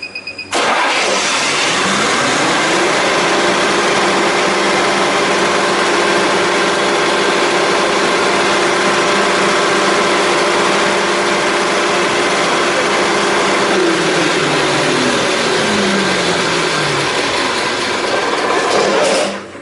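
A generator engine, run manually from an automatic transfer switch control panel, starts and runs at a steady, loud drone for a long stretch, then winds down near the end.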